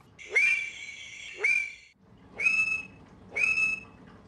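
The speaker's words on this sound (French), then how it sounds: "Nous entendons maintenant les chants d'accouplement de ces deux populations." Four Allen's frogs (Conraua alleni) from Sierra Leone give mating calls, each a sharp rising whistle that holds a bright tone, spaced about a second apart, fairly close and clear over a quiet background.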